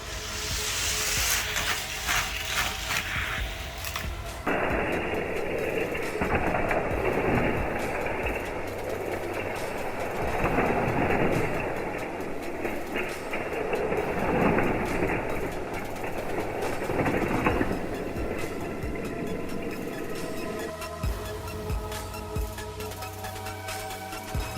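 Hot Wheels toy trucks race down a ramp and through a loop track, giving a steady loud rolling rumble and clatter that swells through the middle stretch and eases near the end, with no talk.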